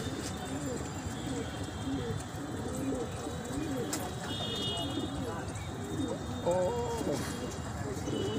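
Female pigeons coo in repeated soft, throaty phrases, steady and fairly close, with a brief rise in the calling near the end.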